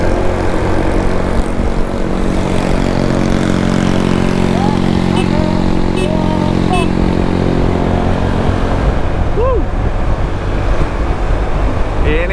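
A Honda ADV160 with a four-valve engine and an Aprilia SR-GT200 scooter drag race, making a loud, close, continuous engine drone that holds steady for the whole stretch, with voices faintly underneath.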